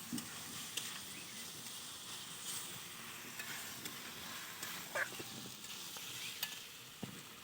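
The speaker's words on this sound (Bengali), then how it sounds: "দেখো বন্ধুরা কতটা সুন্দরভাবে আলুটা দিয়ে কষাচ্ছি" Fried potatoes stirred and sautéed in spiced oil in a pan, with a steady close sizzle and occasional scraping strokes of a spatula, without talk.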